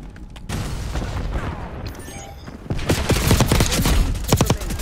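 Loud bursts of AK74 automatic fire in Black Ops 6, a fusillade that starts near the beginning and returns as rapid repeated cracks in the second half, sharp and close.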